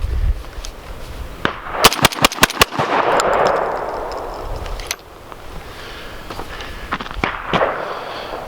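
VR 80 semi-automatic shotgun firing Winchester AA 7.5 shells outdoors, a rapid string of about six sharp loud shots in quick succession followed by rolling echo, then a few more scattered reports, close to the shooter.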